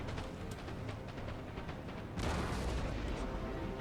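Artillery fire in the video game Napoleon Total War, with cannon booms and rumbling blasts over dense battle noise that swells louder partway through.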